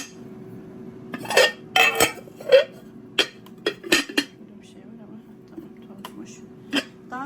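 Glass baking dishes and lids clink and knock together in a handful of sharp, close taps, with a few quieter clinks later.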